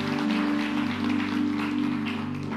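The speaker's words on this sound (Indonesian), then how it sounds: "Berikan tepuk tangan buat Tuhan Yesus" Church congregation clapping in praise for Jesus during a sermon, a dense, steady wash of applause lasting throughout over a sustained musical drone, moderately loud and even.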